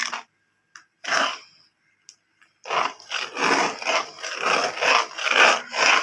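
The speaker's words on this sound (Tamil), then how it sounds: "அப்படியே கிண்டிக்கிட்டே இருக்கணும் அது அடி பிடிச்சிடும்" A spoon scrapes and stirs a thick rice flour batter in a pan, a few isolated strokes at first, then continuous rhythmic rasping strokes close by, with no talking.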